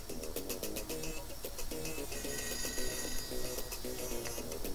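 A telephone ringing in the video game ToeJam & Earl, a repeated electronic ring in quick regular bursts layered over looping game music, continuing throughout.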